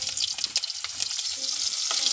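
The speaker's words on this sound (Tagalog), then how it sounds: "Magpainit muna tayo ng mantika mga idol para gisahin yung mga panakot natin." Garlic sautés in hot cooking oil in a pan, giving a steady bright sizzle and crackle with quick stirring scrapes, close and moderately loud, with no talking.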